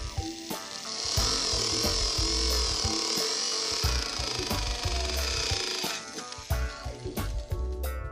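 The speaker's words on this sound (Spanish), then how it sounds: "Perforamos con una broca de 5/32 o 4 milímetros." A drill with a 5/32 inch (4 mm) bit bores screw holes through an aluminum heatsink for an amplifier build, giving a steady, loud grinding whine for several seconds, with clicks and knocks before and after.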